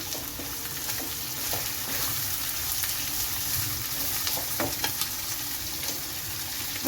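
Thinly sliced onions frying with ginger and garlic for mutton biryani, a steady close sizzle with stirring scrapes and a few sharp crackles.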